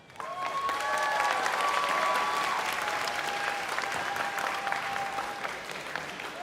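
Steady applause from a crowd at a Pathfinder Bible Experience testing event, dense and sustained for several seconds before tapering slightly, with no talking over it.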